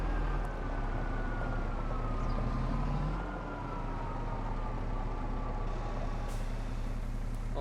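Semi truck in a farming video game, its engine rumbling steadily throughout, a pitch shift partway through as it works, and brief sharp hisses of air brakes near the start and toward the end; no talk.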